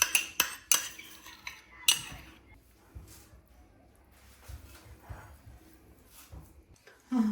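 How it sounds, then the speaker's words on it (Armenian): Utensil scraping and clinking in a bowl as mayonnaise is stirred into a cooled chicken breast filling for a filo pastry appetizer, with several sharp knocks early on, then softer mixing sounds. "հիմա արդեն միջուկը սառել է, ավելացնում եմ մայոնեզը։ Ավելացնում եմ ու խառնում"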